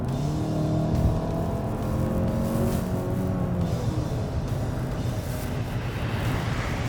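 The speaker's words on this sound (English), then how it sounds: "you can really appreciate even that engine has quite a nice note" A 2.5 litre 4-cylinder engine in a 2025 Hyundai Santa Fe Elite SUV holds steady, elevated revs with a smooth, continuous drone heard from inside the cabin.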